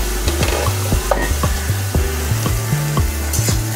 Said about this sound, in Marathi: कारलं छान आपल्याला परतून घ्यायचं आहे तेलामध्ये.